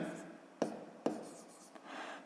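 A pen writes out a math exercise on paper, with two sharp taps followed by quiet scratchy strokes, close up and soft.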